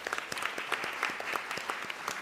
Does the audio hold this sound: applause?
yes